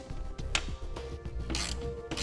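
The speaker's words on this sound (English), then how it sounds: "we can go ahead and take a wrench. It's going to be an 11 millimeter wrench, and we can tighten that down" An 11 millimeter wrench tightens a bolt while a Pace Edwards JackRabbit hard tonneau cover is installed on a 2016 Ford truck. Close, quiet clicks and ratcheting rubs come in short bursts, with a few brighter scraping strokes near the end.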